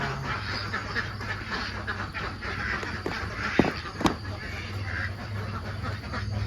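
Ducks on a duck farm quack repeatedly, a busy flock at moderate distance, with a couple of sharper close clacks and a low steady background hum.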